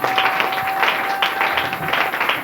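Church congregation clapping and cheering in praise of the Lord, a dense, continuous wash of applause with overlapping voices filling the room for the whole moment.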